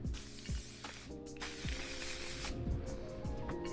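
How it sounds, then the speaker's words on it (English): R&Co Outer Space hairspray sprays up into hair in short hissing bursts, close and fairly loud, mixed with faint rustling of hair and handling noises. "I'm going to finish it off with the R&Co Outer Space Hairspray, spraying up"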